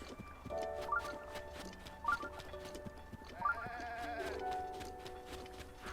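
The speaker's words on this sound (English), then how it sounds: "I heard sheep." Sheep bleat a few times in the open world of Zelda: Breath of the Wild. The game music and steady clip-clopping hooves run underneath, and nobody talks.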